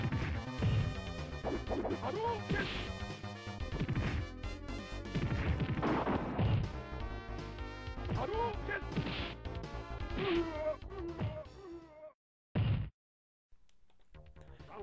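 Street Fighter II Turbo fighting game effects: dense, rapid smashing hits and thwacks layered over music and announcer-style voices, continuous and loud, then a short burst after a brief silence near the end.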